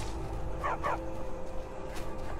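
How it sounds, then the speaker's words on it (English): Barbas, the talking Daedric dog in the video game Skyrim, lets out two short yelping barks in quick succession over a steady bed of in-game ambience. "this talking dog named Barbas said he wanted my help"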